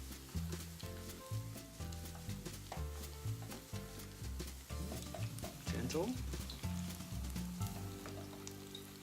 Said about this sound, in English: And we're frying on both sides.